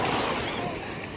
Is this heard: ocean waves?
yes